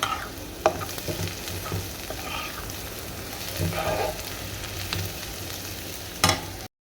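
Cinnamon stick, half a bay leaf and a cardamom pod sizzle in hot oil in a frying pan for egg curry, a steady crackle broken by a few sharper scrapes of stirring, close and with no voices.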